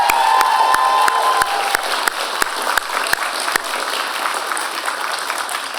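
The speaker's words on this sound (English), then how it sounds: "I wonder if you could join me in an amazing round of applause for your friends and your families" Audience applause fills a convocation ceremony at Royal Roads, steady and dense throughout, with a few sharp claps standing out and some cheering mixed in near the start.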